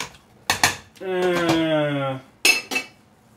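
A pot of jambalaya being stirred, with sharp metallic scrapes and knocks of a spoon against the pot and a ringing, sustained metal tone between them, close and loud, while someone talks.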